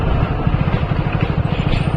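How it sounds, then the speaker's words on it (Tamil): A Mahindra 575 DI tractor with a 9-tine cultivator on a small farm plot, its engine a steady, loud diesel chug with a regular low throb running through the whole stretch, nearby and without voices. "வண்டி வேற வந்துருச்சு."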